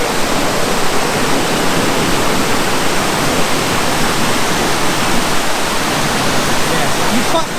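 A creek rushes loudly at night near a waterfall, a constant dense roar of flowing water filling the scene without any break.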